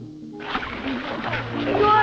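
Children splash in lake water at a summer camp, quick sloshes and splatters over steady chatter and voices talking throughout.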